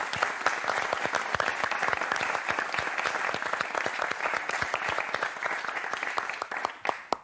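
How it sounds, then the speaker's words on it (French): Sustained, dense audience applause at a French television game show finale, loud and even throughout with many overlapping claps and no talk, thinning slightly at the very end. "je vous demande d'applaudir Valérie Maurice"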